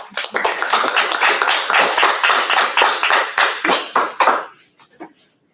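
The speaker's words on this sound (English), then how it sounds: "So let's all give them a big round of applause." Applause for winners of the PanAmerican Youth Chess Championships, a group clapping close and loud in quick rhythmic bursts for several seconds before breaking off into a few scattered final claps.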